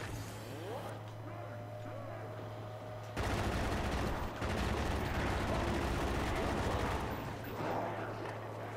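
Rapid gunfire from a zombies shooter video game, steady automatic bursts over a continuous low game drone, loud and sustained throughout, with the background getting noticeably busier partway through.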